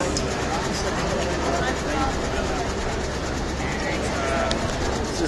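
A Eurostar train to Paris rumbles steadily with a loud, continuous rolling roar and faint rhythmic rail clatter, heard from on board, with voices talking over it.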